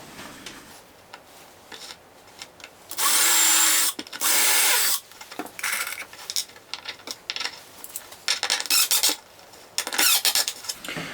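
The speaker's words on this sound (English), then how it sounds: "This DeWalt Atomic brushless has a lot of power" A DeWalt Atomic brushless drill drives screws into plywood in several loud close bursts of whirring, the longest two near the start, separated by clicks and handling noise.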